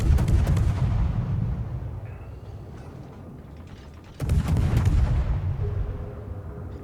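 Heavy warship gun salvos in the World of Warships video game, two deep booming blasts with long rumbling tails, the first at the start and the second partway through, loud and close.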